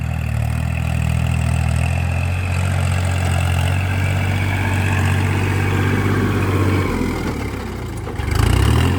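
A three-cylinder Kubota L4018 tractor engine runs steadily at high revs while ploughing a field, a loud continuous low drone that holds throughout and shifts briefly near the end.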